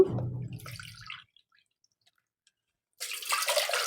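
Water for ragi noodles is poured from a cup into a pot, a short splashing pour, then a silent pause, then another brief burst of pouring.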